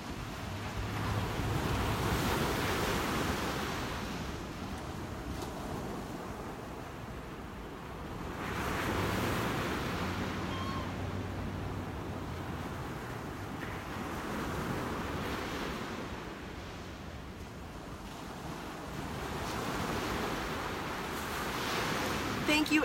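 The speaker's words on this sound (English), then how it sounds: "I hope you enjoyed the sound of the waves and the beautiful sunrise at the beach." Ocean surf rolls onto a beach at sunrise in steady, slow swells, a continuous wash with gentle rises and falls and some wind noise across the microphone.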